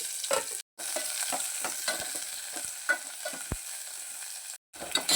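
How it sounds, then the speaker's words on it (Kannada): Onion and curry leaves crackle and sizzle in a small amount of oil, a close, continuous frying hiss broken by scattered pops and stirring clicks, with two short gaps of silence. "ಸ್ವಲ್ಪ ಕರ್ಬೇವು ಹಾಕೋತಾ ಇದ್ದೀನಿ ಕರ್ಬೇವು ಸ್ವಲ್ಪ ಈರುಳ್ಳಿ ಹಾಕೋತೀನಿ"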